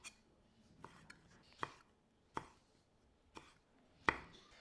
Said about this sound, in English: These ones you want to chop them into fine dices.